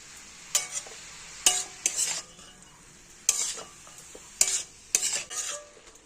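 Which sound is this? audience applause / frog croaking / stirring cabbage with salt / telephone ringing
stirring cabbage with salt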